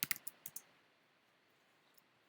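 Someone types on a computer keyboard in a quiet room, with about five quick, faint clicks at the start, then near silence and one more sharp keystroke at the end.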